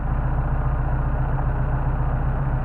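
A Mercedes 190SL engine idles on its carburetors with a steady, low, even rumble and faint vibration, close and continuous with no voices.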